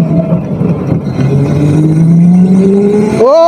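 A fast car accelerates hard with a loud, close engine whose pitch climbs steadily through a gear, then jumps sharply higher as it revs again near the end.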